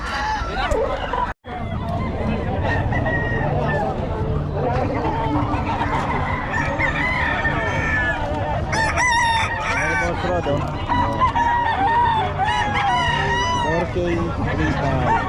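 Roosters crow repeatedly, close and loud, with clucking fowl around them and people talking over the birds throughout.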